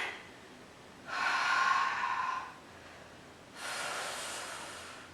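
Deep breaths during a workout, two long, close hissing exhalations through the nose or mouth, each lasting over a second, separated by a quiet pause.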